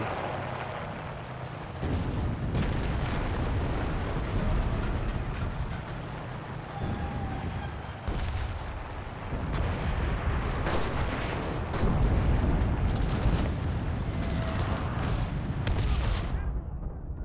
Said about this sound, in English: And these bombs are way too OP as well